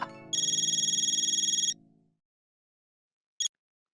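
A phone ringtone trills in a steady electronic ring for over a second, then cuts off. A brief chirp follows after a pause, heard alone and close.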